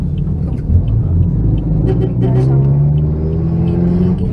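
A Mitsubishi Mirage's engine labours and drones under load while driving, a steady low rumble with rising pitch, close and loud, with people talking over it.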